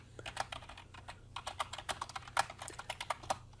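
Quick, light keystrokes on a computer keyboard, a close, steady run of clicks with small pauses between bursts, no voices.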